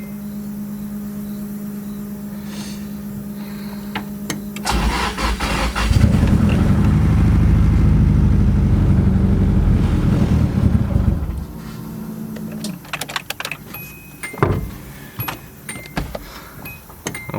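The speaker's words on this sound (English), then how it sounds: "So I'm gonna fire this thing up and see if it made any difference." SR20DET engine in a 240 with a lean condition cranks and fires up, giving a loud, rough rumbling run for several seconds before dropping back, followed by scattered clicks and clatter nearby.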